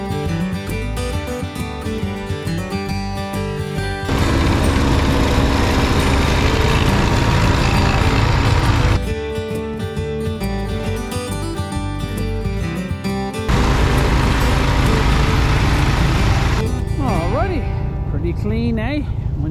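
A Bercomac snowblower cuts through deep snow with a loud, steady engine drone that surges in two long, heavier stretches, while someone talks throughout.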